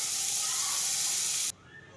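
Butter hitting a hot kadai gives a loud, steady sizzling hiss that stops abruptly after a second and a half, leaving faint quiet sizzle.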